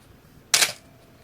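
A Canon AE-1 35mm film SLR fires its shutter on the self-timer, giving a single crisp mechanical click-clack close up in an otherwise quiet room.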